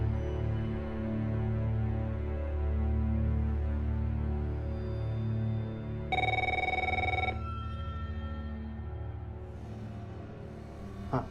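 A telephone bell rings in a tense Hindi suspense thriller scene, a steady electronic ring sounding continuously and loudly over a dense background, with a brighter burst midway before fading slightly.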